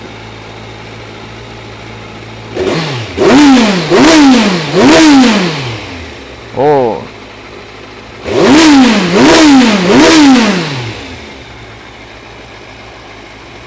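A Kawasaki Versys inline-four motorcycle engine with stock exhaust revs hard in two bursts of three rising-and-falling throttle blips, with a short single blip between, over a steady idle.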